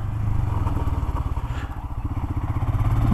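A Royal Enfield Himalayan 411cc motorcycle engine pulls away with a steady, low pulsing throb, rising gently and staying smooth and close throughout.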